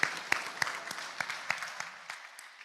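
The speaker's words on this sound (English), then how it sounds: "Please turn your applause to Gordon Hubble, our maestro here, for the nice" A small audience at a Rotary Club meeting claps for the piano player, a light burst of hand claps with distinct individual slaps that thins out and fades over a couple of seconds.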